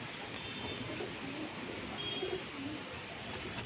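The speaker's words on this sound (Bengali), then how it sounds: "দুটো আমার বাড়িরই পায়রা।" Household pigeons cooing softly, faint low burbling calls over a steady background hiss.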